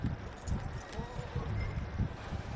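Horse hooves clip-clop in a steady walking rhythm in the video game Red Dead Redemption 2, close and moderately loud over a rumbling background.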